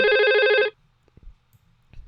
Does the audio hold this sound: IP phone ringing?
yes